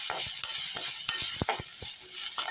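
Onion sautéing lightly in a pan for poondu kulambu (garlic curry), a steady soft sizzle with repeated scraping stirs of a spoon, close and continuous with no talk.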